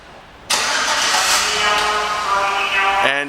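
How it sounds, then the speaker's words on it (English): A 2008 GMC Yukon XL 4WD engine starts by remote, a loud broadband crank and catch that settles into a steady close rumble lasting about three seconds, with no speech. "And this feature allows you to start the car from a distance."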